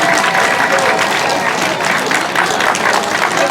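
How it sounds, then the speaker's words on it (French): A crowd at a women's cycling race start in Avon, Route de France, applauding the French team: steady, loud, dense clapping that fills the whole stretch, with some crowd voices mixed in. "vos applaudissements pour l'équipe de France"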